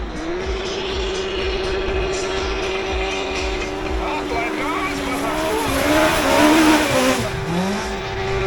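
A rally car revs hard at a hill climb start in Latvia, its wheels spinning with rising engine whine and tire squeal, loud and close, while people talk over the noise.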